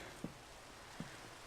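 Rain in the farming video game Farming Valley falls as a steady, faint hiss, with two soft drip-like taps standing out briefly.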